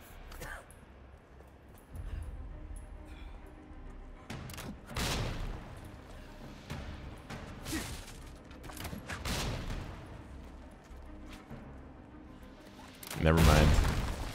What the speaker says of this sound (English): Shooting back at him is not the tactic.